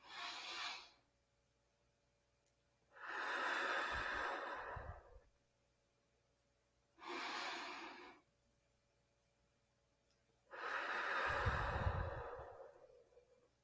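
Box breathing done by one person: two long slow inhales alternating with two long audible exhales, each lasting about a second or two and separated by silent holds, close and fairly quiet.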